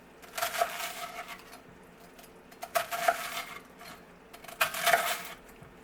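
A knife crunching through dry toast for Thanksgiving bread stuffing, in three short, close, crisp bursts of scraping and crackling separated by quiet gaps.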